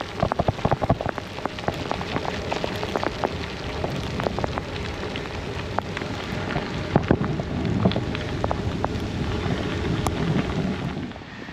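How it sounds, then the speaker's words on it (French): Moderate rain falls steadily during a gravel bike ride, a dense patter of drops striking close surfaces with frequent sharper taps throughout, loud and continuous with no talking. "Pluie modérée, ils ont dit."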